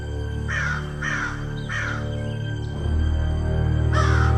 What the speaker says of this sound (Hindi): तो कहीं से एक कौवा आया।